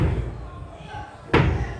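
A WPC (wood-plastic composite) door is struck to test its strength, giving one sharp, loud slam near the end after a stretch of low, murmured talk.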